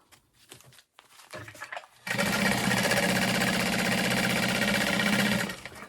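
A sewing machine stitches fabric for a small travel bag. A few soft handling taps come first, then a close, steady mechanical whir and needle chatter starts and runs for about three seconds before stopping.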